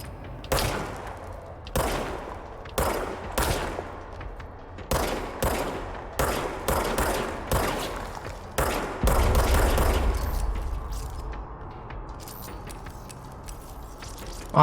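Video game gunfire crackles in about a dozen sharp, loud bursts of rapid shots with brief gaps between them, followed by a longer sustained rumbling barrage and then quieter ticking clicks, with no talking.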